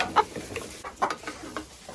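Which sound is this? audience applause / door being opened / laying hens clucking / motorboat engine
laying hens clucking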